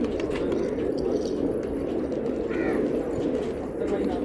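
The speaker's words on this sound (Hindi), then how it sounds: "माशाल्लाह से कबूतर उड़ गए भाई" Desi kabutar pigeons, including a Kalpotiya, on a rooftop at a pigeon-flying session coo and take off under a dense, steady wash of wing and ambient noise, with a voice faintly present.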